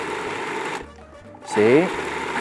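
A blender pulses a batch of grilled salsa in short bursts, its motor whirring loud and close, with a brief pause between pulses as a person talks over it.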